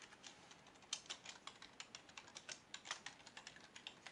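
Rapid, continuous typing on a computer keyboard, a steady stream of close, crisp keystrokes with brief pauses, quiet and without talking.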